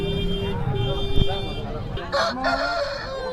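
Chickens cluck and a hen calls at the Saturday hen market in Mydukur, close and clear amid a busy market background with people talking nearby.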